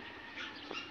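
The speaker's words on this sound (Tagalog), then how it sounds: "Naku, may tuta pa." A puppy whimpers in brief, faint high-pitched whines against a quiet outdoor background, with no talking.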